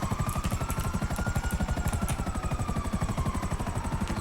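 Helicopter from GTA 5, a rapid rhythmic rotor chop with a steady engine whine, loud and continuous throughout with no talking.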